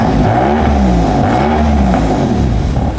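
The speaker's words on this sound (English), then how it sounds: "I'll give you a little rev." A BMW F80 M3 fitted with a loud aftermarket exhaust revs up close and loud, its engine note climbing and falling through several throttle blips with a deep, raspy roar and no talking over it.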